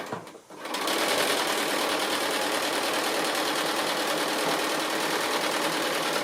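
A domestic sewing machine stitches the last side of a quilt block frame, running as one steady, close, continuous whir after a brief quiet start, with no talk over it.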